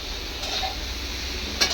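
Spices sizzle in a pan set on a clay stove. A soft, close frying crackle is broken by light scraping of a spoon against the pan and a sharp metallic clink near the end. Nobody speaks.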